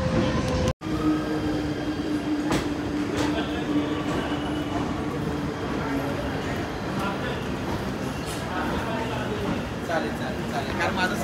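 An Indian Railways train runs with a steady, loud rumble of wheels and carriage noise throughout, broken only by a brief dropout near the start, with faint voices in the background.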